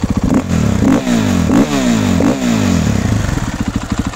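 A 2022 KTM 500 EXC-F motorcycle engine is revved up sharply about four times in quick succession, loud and close, then settles into a rough, clattering idle.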